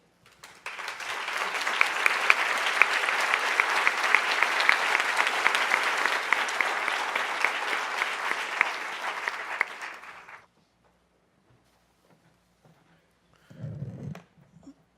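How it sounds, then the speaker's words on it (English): Loud, sustained applause from the audience at the 2014 PEN Literary Awards ceremony, a dense wall of clapping lasting about ten seconds before cutting off, followed by silence and a brief low rumble near the end. "Will all of you please stand to be applauded?"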